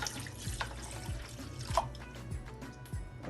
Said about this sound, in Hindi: और 1 कप डालेंगे हम इसमें पानी।